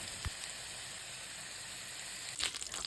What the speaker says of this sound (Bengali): এবার আমি আলুগুলো হলুদ লবণ মাখিয়ে একটু ডুবো তেলে ভেজে নেব